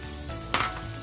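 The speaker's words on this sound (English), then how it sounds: "in the same pot we're going to start sauteing half of the white onion that I have diced really fine" Finely diced white onion drops into a pot with sausage drippings, a steady low sizzle with one brief bright scrape or clatter midway, close and alone.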